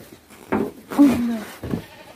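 Goats bleat on a goat farm, with a few short calls spread over two seconds and people talking over them nearby.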